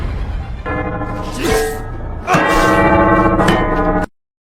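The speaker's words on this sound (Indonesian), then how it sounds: "menghentikan lonceng yang berputar" Spinning bells clang and ring with long metallic overtones, loud and close, in two surges with a brief swell between, then cut off abruptly.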